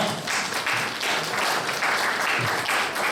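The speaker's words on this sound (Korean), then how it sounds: "우리 축복의 박수 하겠습니다" A church congregation at a youth worship service applauds in blessing, with steady, dense clapping from many hands filling the room throughout.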